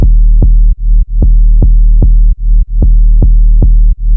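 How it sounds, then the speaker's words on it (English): Deep 808 bass notes in a trap beat, hitting in lockstep with the kick: a loud, steady run of booming hits with brief gaps, no voices. "And the 808 plays along with the kick, so that's going to sound like this."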